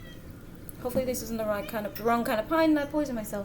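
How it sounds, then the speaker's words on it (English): A pet cat meows to be let in, several drawn-out meows indoors, heard under and between a person talking nearby. "That's my cat, she's meowing,"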